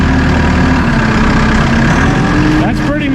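A Massey Ferguson 2850E compact utility tractor with a 48.8 hp engine and synchro shuttle runs steadily as it drives slowly around a lot, a close, constant drone with a faint whine rising near the end.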